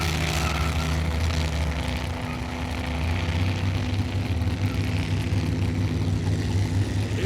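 A car engine revving hard at full throttle at a low-buck car show event, a loud steady mid-low drone holding high RPM throughout with no talk.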